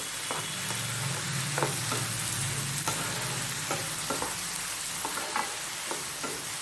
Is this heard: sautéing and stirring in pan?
yes